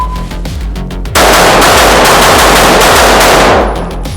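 Rost Martin RM1C pistol firing a rapid string of shots at a range, loud, close and sharp, with a dense burst of reports running together for several seconds.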